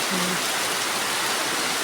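Steady rain pours down over a farmyard where bulls and buffalo stand out in the wet, a dense, even hiss with no breaks.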